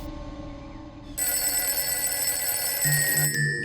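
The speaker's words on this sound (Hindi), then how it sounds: "मुझे लैंडलाइन पे फोन आ रहा है।" A landline telephone bell starts ringing abruptly after a quiet moment and keeps ringing steadily, loud and close, with a brief pulsing tone near the end.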